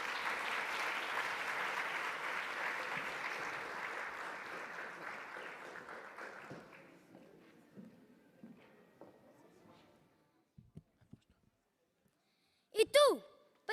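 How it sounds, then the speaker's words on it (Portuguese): An audience at a UNESCO World Portuguese Language Day reading event claps for student readers. The applause is loud at first and thins out over several seconds into a few scattered claps, followed by brief bright tones and thumps near the end. "Por favor, uma salva de palmas."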